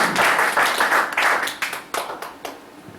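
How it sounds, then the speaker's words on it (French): A church congregation claps in acclamation during a sermon, rapid clapping that fades into scattered, separate claps near the end. "Acclamation pour le Seigneur."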